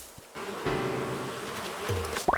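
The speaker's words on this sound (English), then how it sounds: "I've never been stung by a wasp on this island." Buzzing swarm of wasps in the Animal Crossing video game, released after a tree is shaken; a steady droning hum that continues for about two seconds, with no speech.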